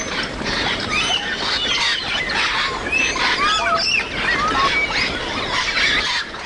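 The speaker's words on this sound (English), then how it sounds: "It's a rather noisy assembly, because the more grays that arrive and join the group, the louder it gets" A dense chorus of squawking, whistling African grey parrots, a large flock calling at once in a continuous noisy clamor with no pauses.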